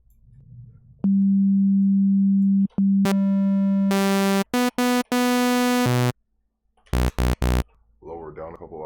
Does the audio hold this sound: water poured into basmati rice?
no